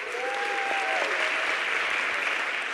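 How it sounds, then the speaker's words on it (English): Steady applause rolls through a community budget forum crowd, fairly faint and distant, with a brief high whistle-like tone sliding over it early on. "Let's give her a round of applause."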